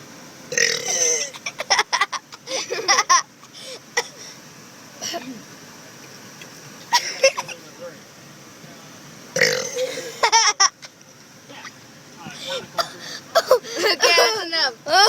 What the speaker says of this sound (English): Make a really big burp.